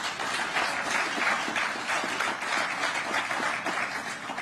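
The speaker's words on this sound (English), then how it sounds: "this, ladies and gentlemen, deserves a round of applause" A crowd applauds steadily at the opening of a Corobrik clay brick factory, a dense, continuous wash of clapping from many hands that holds at a constant level throughout, with no talk over it.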